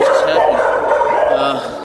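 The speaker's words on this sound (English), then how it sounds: "You cannot shut the dogs up now." Several dogs bark and yap continuously in a dense, overlapping chorus, loud and close, with no break over the short stretch.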